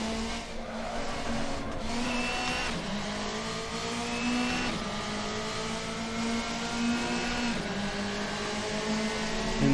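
A Maserati race car in the Assetto Corsa racing game, its engine howling steadily at high revs with gear changes and occasional tire squeal through corners, loud and continuous without voices.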